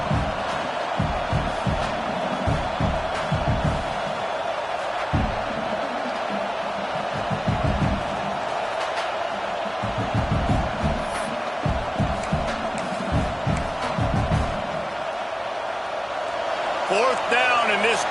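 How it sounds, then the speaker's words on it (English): Stadium crowd at a Texas versus Michigan football game roaring on fourth down, a sustained dense cheer with a commentator talking over it. "Fourth down, and this crowd trying to help this defense rise to the occasion."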